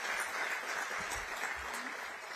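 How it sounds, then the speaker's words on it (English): Audience applause fills a large hall at a city government State of the District address, a steady dense wash of clapping that runs unbroken and fairly loud throughout. "Please give them a big round of applause."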